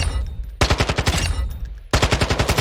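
Automatic weapon fired in a video game firing range, two rapid full-auto bursts of evenly spaced loud shots, alone with no talk.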